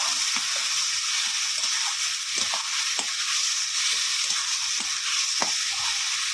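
Onion, garlic and tomato paste sizzle steadily in a frying pan while a spoon stirs them, its scrapes landing as short, irregular taps over the constant close frying hiss.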